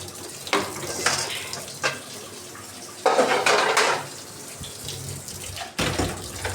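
Dishes and utensils being washed in a kitchen sink under running tap water, with clattering pots and cutlery and bursts of water flow throughout, close by and moderately loud.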